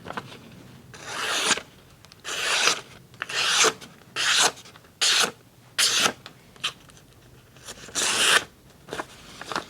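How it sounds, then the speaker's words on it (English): A Scandi knife edge is drawn forwards and backwards across a sharpening surface, giving about ten separate raspy scraping strokes in a steady rhythm. Each stroke is loud and close, with short quiet gaps between them and no talk. "by simply sharpening forwards and backwards"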